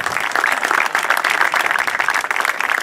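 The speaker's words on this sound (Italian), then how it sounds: "facciamogli un applauso" A crowd at a peace award ceremony claps loudly and continuously, many hands blending into a dense, even patter throughout without any voices standing out.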